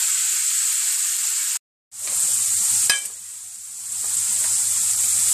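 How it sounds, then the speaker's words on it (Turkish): Minced meat fries in hot oil in a pan, a bright continuous sizzle that drops out briefly, then resumes with a crackle and settles into steady hissing. "Sıvı yağımızı tavamıza alalım ve kıymamızı kavuralım."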